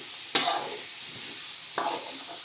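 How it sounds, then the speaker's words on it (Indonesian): A vegetable mixture of squash and young papaya is stirred in a pan with oyster sauce, giving two brief scraping strokes over a soft background sizzle. "Nah, kita campur, lalu kita aduk."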